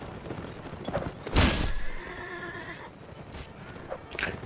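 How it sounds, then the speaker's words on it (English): A horse in the video game Mount and Musket lets out a loud, drawn-out neigh as it dies, rising sharply then trailing off over scattered battle sounds. "Oh, my horse died."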